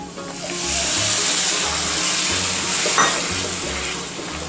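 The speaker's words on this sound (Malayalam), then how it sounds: "ഇനി നമുക്കിതിലേക്ക് ടൊമാറ്റോ പ്യൂരി ഒഴിച്ച് കൊടുക്കാം" Tomato puree hitting a hot pan of frying spice powders for okra masala, a loud steady sizzle and hiss with some stirring, close and continuous.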